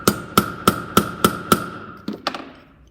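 A hammer taps a rivet into a brake pad held in a small vise while CCKW truck brake pads are being riveted. Six crisp, evenly spaced metallic strikes ring out close by, followed by two softer, quicker taps.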